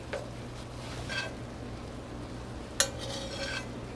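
Rendered 80-20 ground beef sizzles softly in a pan as a utensil pushes it aside to drain the grease, with steady low frying and a few scraping and clinking touches, no talking.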